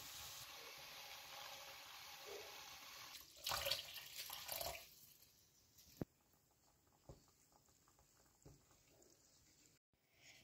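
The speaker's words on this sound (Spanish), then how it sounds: "por aquí tengo ya preparada la jarrita con agua caliente para ya cubrirlo todo" Hot water poured from a small jug over lentils in a cooking pot, a soft splashing rush that swells louder for about a second midway, then gives way to scattered drips and light clinks.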